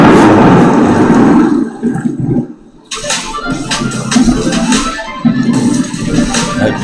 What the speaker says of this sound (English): That thunder's booming.